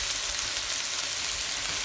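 Chili powder and salt frying into the masala for palak paneer, a constant, close hiss of sizzling oil with no pauses and no voices.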